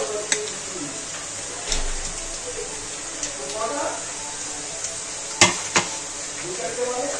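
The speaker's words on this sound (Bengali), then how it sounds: "ভাজতে ভাজতে দিয়ে দেবো আদা কোচানো, লঙ্কা, কাঁচা লঙ্কা কোচানো গুলো" Chopped ginger and green chillies frying with onion and garlic for hotel-style chicken tarka, giving a soft steady sizzle with occasional spoon clinks and scrapes against the pan.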